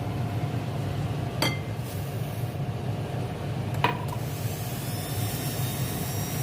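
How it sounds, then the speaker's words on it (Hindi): Oil and sugar being beaten together in a bowl for a homemade lemon cake: a steady, even whirring drone broken by two sharp clinks against the bowl. "इन चीज़ों को अच्छी तरह बीट करें ताकि जो शुगर मोटी है वो बारीक हो जाए"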